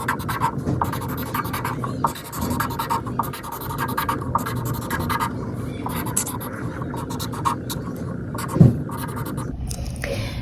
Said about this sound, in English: Now on the next side, I'm going to draw something different.